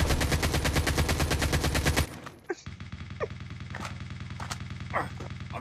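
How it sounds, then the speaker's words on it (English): Rapid, loud shotgun-style gunfire in a tactical shooter video game bursts continuously for about two seconds, then drops away to scattered single cracks and softer game effects over a low background hum. "Grabe naman shotgun yan."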